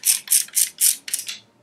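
A hand ratchet snugs bolts on a Kawasaki KFX 400 engine during a rebuild: about six crisp, close metallic clicks in a quick, slightly uneven rhythm.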